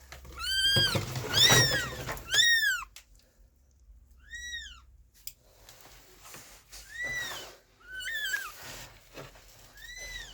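A tiny newborn kitten cries in a series of thin, high mewing calls, several quick ones in a cluster, then scattered single mews after pauses, close and fairly clear in a quiet room.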